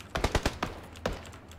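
A quick series of close gunshots in a PUBG match, likely from an MK14 rifle, with four rapid shots, a pause, then another shot and fainter echoes.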